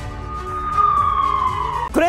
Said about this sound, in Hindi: सुबह से डोनेत्स्क में बज रहे हैं एयर रेड सायरन।